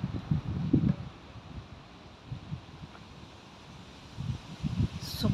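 Strong wind gusting through large trees in a rose garden, a steady rushing roar with louder swells at the start and end and buffeting on the microphone.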